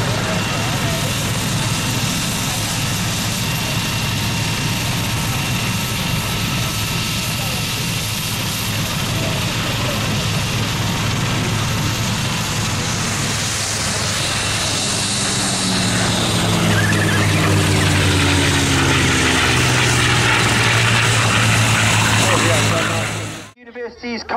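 An aeroplane of the Rolls-Royce heritage flight passes during the RAF Cosford Air Show 2023, its engine drone building and sweeping in pitch as it goes by, under steady commentary from a public address.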